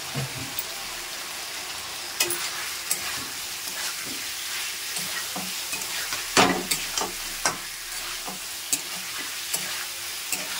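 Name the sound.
spices and dried chili powder being fried and stirred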